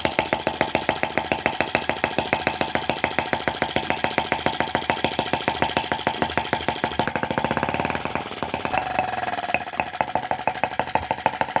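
A brass model Lanz T16B half-track tractor engine runs steadily, a fast even putt-putt of rapid close exhaust beats with a brief shift in tone near the end, heard alone without talk.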